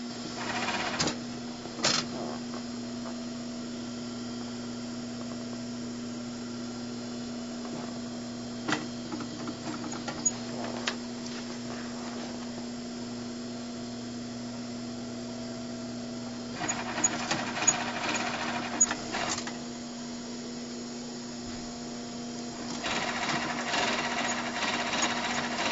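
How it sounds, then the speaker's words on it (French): A sewing machine stitches fur coat sleeves in steady, continuous runs with a constant motor hum, while brief bursts of rattle and louder passages come and go, and no one speaks. "c'est qu'on va coudre des manches"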